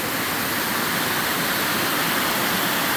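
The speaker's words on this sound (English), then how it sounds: "we got the water coming out from under the snow as it melts" Meltwater pours out from beneath melting snow in a snowy valley near Palmer, a steady, loud broadband rush of running water with no talk over it.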